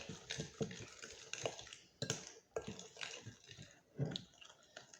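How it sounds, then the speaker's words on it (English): An egg stirred into lemon cookie batter in a bowl: soft, irregular wet scraping and tapping of a utensil against the bowl, close and fairly quiet, with no talk. "we're going to go ahead and drop in our egg, 1 egg. We're going to give it a good old stir"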